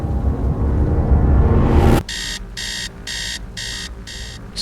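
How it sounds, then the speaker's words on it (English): Low rumbling noise cuts off, then an alarm clock rings in regular pulsed bursts of bright, loud beeping, about five repeats. "Suddenly, I heard the alarm clock go off."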